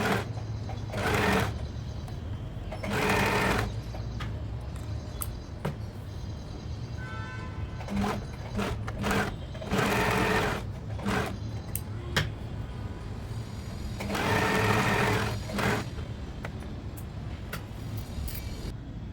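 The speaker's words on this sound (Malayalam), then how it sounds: "മുന്നേ ചെയ്തതുപോലെ തന്നെ സ്റ്റിച്ച് ചെയ്ത് കൊടുക്കാം." A sewing machine stitches a crop top in repeated close bursts of fast mechanical whirring, separated by short pauses, with soft handling sounds in between.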